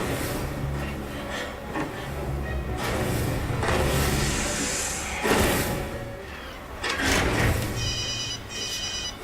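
An old telephone left powered on rings in a sci-fi drama scene, loud electronic trills in several bursts mixed with shuffling and knocks, with no speech.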